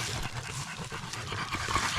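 Dog panting steadily in a forest, quick rhythmic breaths close by over a broad outdoor background hiss.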